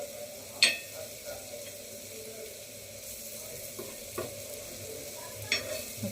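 Prawns and potato frying in a pan, a soft continuous sizzle with a few sharp clinks and scrapes as the pieces are flipped, close up and fairly quiet.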